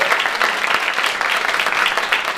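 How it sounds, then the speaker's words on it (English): Audience applause at a book club talk, a dense steady wash of many hands clapping, fairly close and continuous. "let's give a big round of applause for Tony here."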